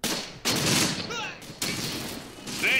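Bursts of rifle and machine-gun fire in a WWII battle video game, dense crackling volleys in several surges with a short lull midway, fairly loud and continuous.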